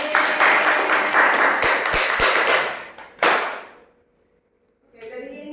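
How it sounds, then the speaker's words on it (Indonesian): Classroom of students clapping hands together in a burst of applause, a dense rattle of claps that fades out, followed by a short silence before talk resumes. "Tepuk tangan dulu."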